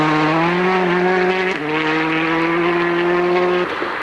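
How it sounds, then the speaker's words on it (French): Sébastien's Citroën WRC rally car screams through a Swedish forest stage at the 2004 Uddeholm Swedish Rally, its engine held at high revs with a sharp gear-shift dip midway and another near the end. "la Citroën de Sébastien est donc la première à percer les mystères de la forêt suédoise"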